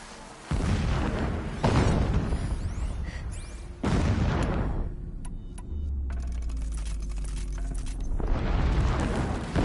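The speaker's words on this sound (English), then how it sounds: "explosions in the distance" Distant explosions in the game Horizon Remastered: a series of heavy booms and rumbling bursts, several broad blasts with sustained low rumble between them, loud and reverberant, with no talk.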